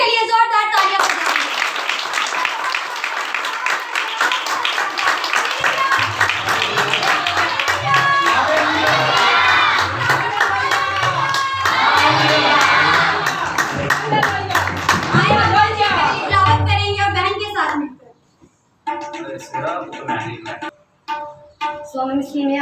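A church congregation at a Sunday service claps loudly, a dense, sustained burst of applause that stops abruptly near the end. A few scattered claps and voices follow.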